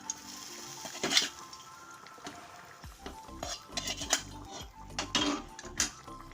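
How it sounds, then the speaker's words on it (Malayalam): Hot tempering of mustard seeds, curry leaves and chopped shallots sizzles softly as it is poured into a fish curry, with utensils clinking and scraping against metal in between. "ചെറിയ ഉള്ളി അരിഞ്ഞത് കുറച്ച് കറിവേപ്പില കടുക് താളിച്ചു നമുക്ക് കറിയിലേക്ക് ഒഴിച്ചു കൊടുക്കാം"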